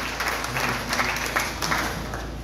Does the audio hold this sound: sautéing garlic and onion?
no